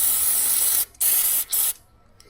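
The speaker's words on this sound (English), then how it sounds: "I'm gonna grab some carb cleaner. I'm gonna put some in the bottom of the bowl here" Carb cleaner hisses from an aerosol can into the float bowl of a dirt bike carburetor in three close, loud bursts, the middle one brief, then the spray stops.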